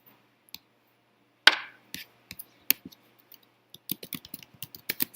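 A computer mouse clicks while adding a resource in a web course page, giving a string of sharp, close, separate clicks that grow quicker and denser toward the end, with no talk over them.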